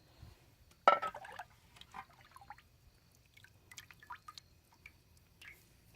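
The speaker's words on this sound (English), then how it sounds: "I'm going to use just a 1 quart little pot to ladle some out" Rendered lard is ladled out of a pot over an open fire into a 1-quart pot: a sharp knock, then faint liquid trickles, drips and small clinks, close and quiet, with no voices.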